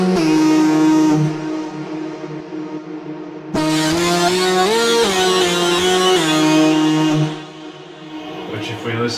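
Roland SH-101 plug-out synth lead line with heavy distortion: a sustained, buzzy, horn-like tone holding long notes with a slight pitch bend midway, loud and alone.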